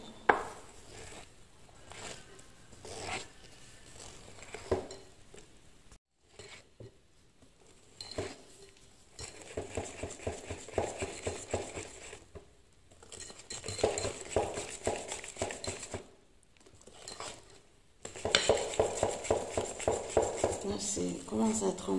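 Cornstarch dough being mixed with oil in a bowl, giving soft, repeated scraping and stirring sounds with small clinks, steady through the clip under a person talking.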